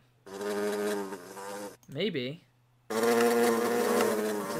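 Wasps in Minecraft's MC Eternal modpack buzz in loud, sustained whining drones, broken by a brief spoken word in the middle before the buzzing resumes.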